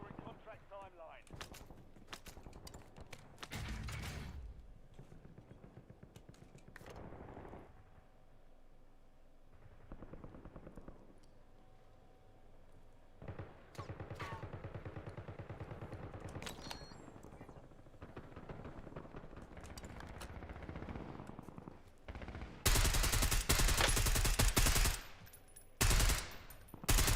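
Video game gunfire in a multiplayer shooter, bursts of automatic fire scattered through the clip and a very loud stretch of rapid shots near the end, with a player talking over much of it.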